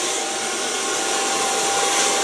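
A hair dryer blowing on hair in a salon, a loud continuous airy whoosh with a steady motor hum and no voices.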